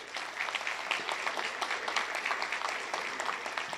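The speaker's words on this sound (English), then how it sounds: "How about a round of applause for all these great sponsors?" Audience at an economic forecast forum at Salisbury University applauding for the sponsors, a moderate, steady clapping from a crowd heard at some distance for several seconds.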